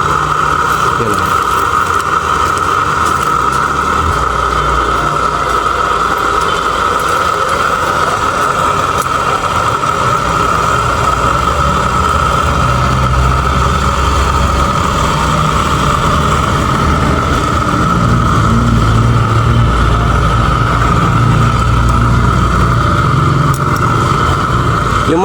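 A small 12-volt DC water pump motor drawing water from a well, running steadily with a continuous whirring hum and a constant mid-pitched whine, its motor slowed by worn replacement carbon brushes and giving only weak flow.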